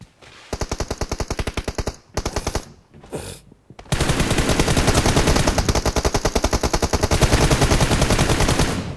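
Automatic weapon fire in the battle royale game BGMI, rapid evenly spaced bursts starting and stopping, then a long loud sustained stream of shots, close and dominant.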